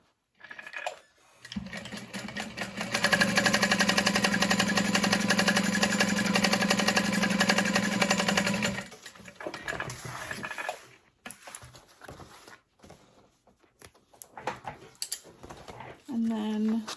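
Sewing machine top stitching a fabric bag, a steady whirring motor run of several seconds after a brief start, then short stop-start bursts of stitching, with a person talking in places.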